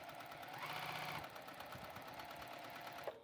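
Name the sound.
Juki sewing machine stitching down edges on foam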